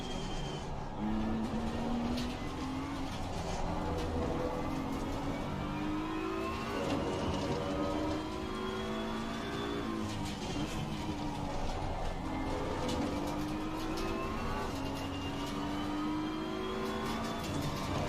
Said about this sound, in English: Listen to the car ahead of Sector 1.